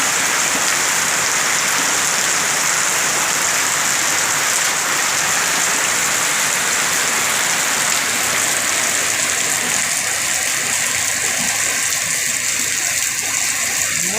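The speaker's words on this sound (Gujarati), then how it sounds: "બહુ પડે વરસાદ" Heavy monsoon rain pours down steadily in Gir on a festival day, a dense, continuous roar of water close by, unbroken throughout with no voices.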